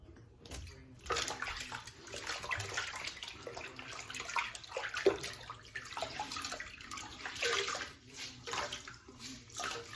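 Water runs steadily from a tap for rinsing after a straight razor shave, a close, continuous splashing flow with small sloshes and shifts in the stream.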